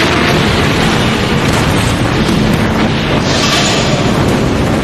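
A truck explodes in a dramatic TV scene, a loud, sustained roar of blast and rumble filling the whole stretch without any voices.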